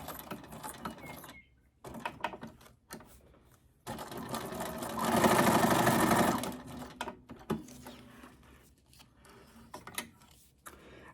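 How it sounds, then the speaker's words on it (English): A sewing machine stitches a junk journal tag in short bursts, with a sustained run in the middle among intermittent stops, fabric handling and quiet mechanical clicks. "I'm going to back stitch a little right here. And then I'm going to go back to the straight stitch."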